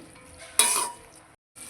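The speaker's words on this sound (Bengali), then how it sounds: "পেঁয়াজগুলোকে বেশ একটু লাল লাল করে ভেজে নেব।" Onions frying and being stirred in a pan for a chicken malai curry, a sudden burst of sizzle and spatula scraping that fades over half a second, drops to silence, then resumes faintly.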